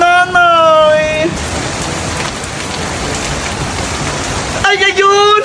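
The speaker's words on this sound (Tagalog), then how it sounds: "Naku! Umuulan na!" Heavy rain pours down in a dense, loud, steady roar for several seconds, with a voice talking before and after the downpour.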